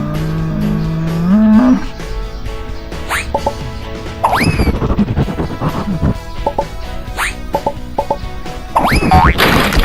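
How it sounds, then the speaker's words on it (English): A cartoon cow moos in a bouncy children's nursery-rhyme song about vegetables, the short bellowing calls mixed among busy music, boings and sound effects at a loud level. "Cow."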